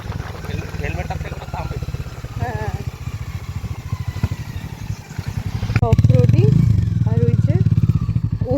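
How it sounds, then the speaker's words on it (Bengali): An off-road motorbike rides a rough track through dense sal forest in Purulia, its engine chugging and revving nearby and swelling louder near the end, while people talk over it. "যাচ্ছে বাইক নিয়ে অফরোডিং জায়গাটা ক্রস করার জন্য"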